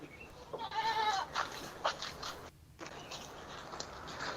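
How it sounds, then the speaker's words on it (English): Goats on a farm kitchen garden in Uganda let out a few short, wavering bleats close by, interspersed with faint rustling and brief pauses, with no talking. "We love the goat. We love the goats."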